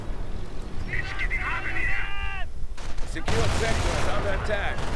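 Machine-gun fire from an MG42 in the World War II strategy game Company of Heroes, sounding as dense, sustained bursts of rattling gunfire under a tonal in-game effect, with a louder, harsher volley in the last two seconds.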